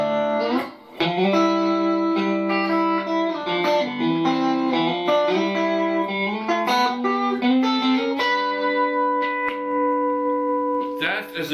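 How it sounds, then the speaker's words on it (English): Electric guitar played through the second position of a standard 5-way pickup selector on a Pearlvibe Strat, heard alone as a run of sustained, ringing chords and single notes at steady volume. "second setting on the normal 5-way switch,"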